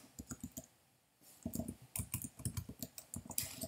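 Quiet, rapid clicking of a computer keyboard as an SSH command is typed into a terminal, two short runs of keystrokes split by a brief pause, close and alone.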